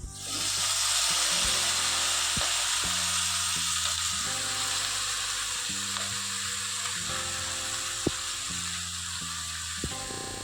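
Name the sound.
tandalja greens being added to a hot pan and sizzling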